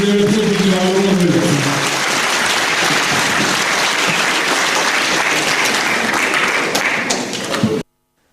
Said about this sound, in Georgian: დიახ, აი ესეთი ხუხარი აპლოდისმენტებით მიეგება შიდა ქართლი გორი